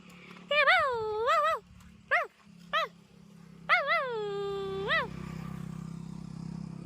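Small dogs yelp and whine at a weekly village market in Ambrad, about six sharp, high, nasal calls in uneven bursts over the first five seconds, then a low, steady background hum.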